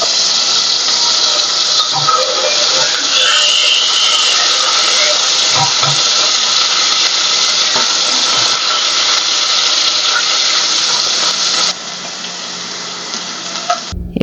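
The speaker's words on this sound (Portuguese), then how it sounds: "Eu vou dourar aqui a cebola" Onion sizzles and hisses loudly in hot margarine in a pan, a continuous bright crackle with occasional stirring knocks, easing slightly near the end.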